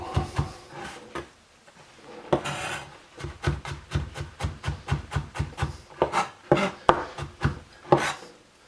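A kitchen knife rapidly minces vegetables on a cutting board, a steady run of close, sharp chopping taps with short pauses, mostly evenly paced, with no talking.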